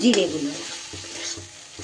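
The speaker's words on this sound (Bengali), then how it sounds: "আদা রসুন আর কাঁচা লঙ্কা একসাথে বাটা ছিল, সেটা দিয়ে দিলাম।" Ginger, garlic and green chilli paste hitting a pan for a Bengali kofta curry, a sharp sizzling burst at the start with stirring scrapes, then a quieter fading fry with a few soft knocks.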